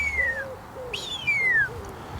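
A large bird cooing near a horseshoe lake in the morning, giving a couple of clear, slurred calls over a quiet outdoor background with no voices.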